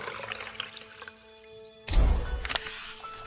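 Water pours into a home fish tank in the video game Lost Words, a sudden loud gushing splash after a quiet stretch of soft music, then settling into a fainter trickle.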